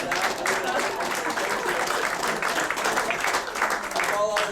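Applause from an audience at a leadership luncheon, sustained even clapping that runs the whole length with a faint tonal sound near the end.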